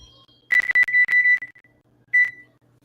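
A kitchen timer beeps with a rapid cluster of shrill electronic button presses, then a single beep a moment later, loud and close in a quiet kitchen.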